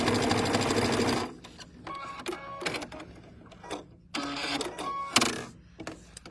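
A sewing machine stitching a quilt block, a loud continuous whirring run that stops, followed by several short clicking and clattering bursts of handling, close up with no talk.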